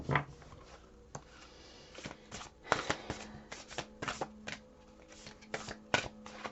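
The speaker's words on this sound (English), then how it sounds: "I'm just going to keep them here as I continue to pull the cards out" Tarot cards are shuffled by hand close up in a quiet room, making a series of soft, irregular riffling and slapping bursts over several seconds.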